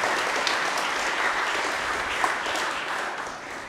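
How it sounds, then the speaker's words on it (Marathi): An audience at a confirmation Mass in a church claps for Bishop Tomas, a dense, continuous round of applause that runs the whole time, with no voices over it. "याबद्दल आपण सर्वजण टाळ्या वाजवून बिशप टॉमस यांचे"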